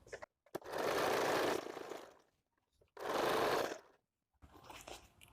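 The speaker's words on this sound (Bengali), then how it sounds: "এভাবে ফোল্ড করে আমি একটা সেলাই করে নেব মেশিনে" A sewing machine stitches a blouse in two separate bursts of steady motor whir and needle rattle, each lasting about a second, close and clear, separated by short quiet gaps and followed by a softer stretch of handling noise.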